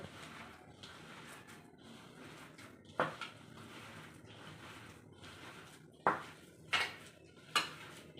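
Semolina batter seasoned with ground black pepper is worked in a bowl: quiet soft stirring punctuated by a few sharp spoon clinks against the bowl's rim.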